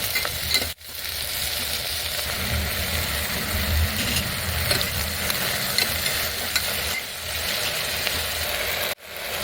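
Onion, green chilies, ridge gourd, okra and tomato fry in a pressure cooker for Andhra-style curry, giving a continuous loud sizzle with a low rumbling undertone and two brief breaks.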